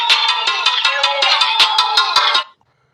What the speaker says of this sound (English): before you decide, you can actually play them